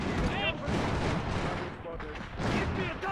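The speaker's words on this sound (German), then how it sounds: "Da sind auch Gegner mit Maschinengewehren" Enemy machine gun fire in the Iron Harvest strategy game, a dense, continuous clatter of rapid shots that runs loud throughout, mixed with other battle noise and talk.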